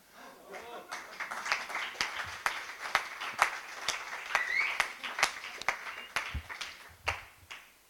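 A modest audience applauds at a mock award ceremony, a light patter of scattered claps that rises and falls over several seconds, fairly faint, with some voices beneath.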